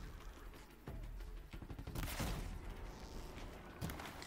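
Several sharp gunshots in the video game Horizon Zero Dawn crack out in a quick irregular series, with a louder volley near the middle, over a faint steady background.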